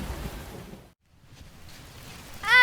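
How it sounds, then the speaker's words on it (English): Heavy rain pours down as a steady hiss that briefly drops out, then swells again and ends in a sharp, tonal burst. "The rain keeps getting stronger."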